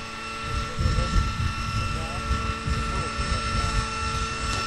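Radio-controlled F3C model helicopter making a vertical takeoff to eye level at a competition, a sustained whining rotor and engine drone with fluctuating intensity, and a voice faintly present in the background.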